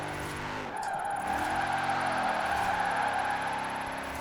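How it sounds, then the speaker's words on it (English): An Audi RS6 drifting with the handbrake in Forza Horizon 4, the engine droning steadily while the tires skid and squeal through a sustained slide, loud and continuous throughout. "I need a lot of speed. And then I have to just yank the handbrake"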